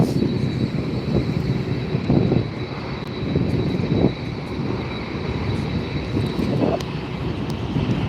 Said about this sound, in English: And Aero Mexico is up in the air.